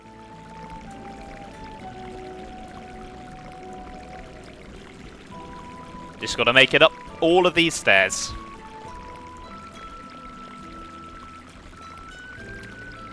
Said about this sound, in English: that running water sound is making me really feel like I need to go to the toilet